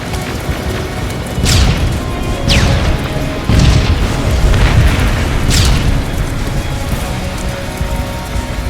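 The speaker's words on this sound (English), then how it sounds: "Rockets! They're heading this way!" Rocket explosions in the video game Terminator Resistance, a run of about five booming blasts spaced roughly a second apart over a steady rumbling battle backdrop, loud and close.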